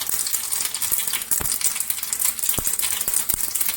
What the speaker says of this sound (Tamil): அந்த கடுகு ஒடிக்கும் போது